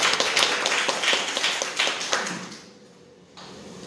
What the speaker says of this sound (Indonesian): Tepuk tangan kepada Yesus Kristus.